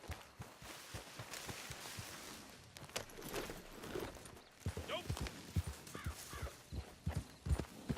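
Horse hooves clip-clop in Red Dead Redemption 2 Online, an uneven walking rhythm that grows louder and more distinct in the second half, with a voice talking over parts of it.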